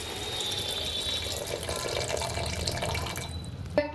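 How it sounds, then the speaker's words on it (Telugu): Water running steadily from a tap or being poured into a cooking pan for fried paneer pulao, a continuous close splashing rush that ends with a brief clunk near the end, with no talking. "హాఫ్ గ్లాస్ వాటర్ వేసుకోవాలి."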